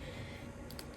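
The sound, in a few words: typing on a Braille Sense notetaker keyboard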